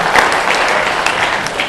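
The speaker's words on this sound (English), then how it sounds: "Let's show a applause." Audience applause at a comedy opening monologue, a dense, steady clapping from a crowd that holds at an even loudness for under two seconds with no voices over it.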